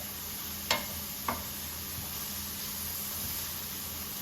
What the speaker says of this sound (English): you're gonna keep stirring for another minute or 2